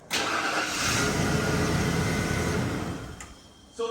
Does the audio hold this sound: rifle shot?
no